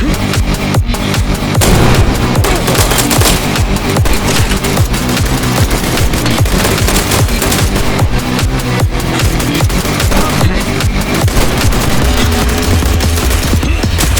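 Dense, continuous gunfire from the video game I Am Your Beast, with a pistol in use amid heavy, loud rapid shots and booms packed tightly throughout, no talking.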